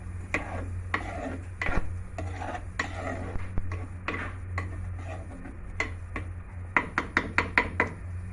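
A fish and tamarind-leaf chutney gets stirred in a clay pot, giving irregular scraping clicks and knocks, then a quick run of sharper taps near the end, over a steady low hum.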